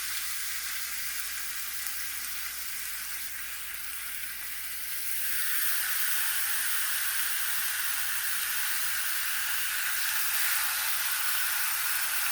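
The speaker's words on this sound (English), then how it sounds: "And we're just going to sear it till it gets all nice and golden brown." Turkey wings sear in olive oil in a skillet with a steady, close sizzling hiss that swells and grows louder about halfway through, then stays bright and constant with no talking.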